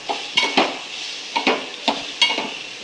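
A spoon clinks and scrapes in a pan of vaghar tempering with grated carrot and mango, in quick repeated stirring strokes over a steady sizzle.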